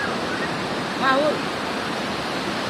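Steady, broad rushing water roars throughout, a continuous wash with a brief faint whistle-like tone partway through.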